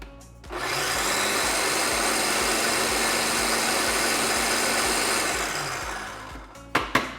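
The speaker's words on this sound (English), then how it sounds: "1 cup of walnuts going right into the blender" A kitchen blender chops a cup of walnuts with a loud, steady grinding whir lasting about six seconds, close by, then spins down and ends with a couple of sharp knocks.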